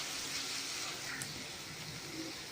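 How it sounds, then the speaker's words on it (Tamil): Three medium tomatoes sauté with onions in a pan while preparing an egg curry, making a steady soft hiss of frying that stays even and close, quiet and broad, with no voices over it. "தக்காளியும் சேர்த்து நல்லா வதக்கிடலாம்"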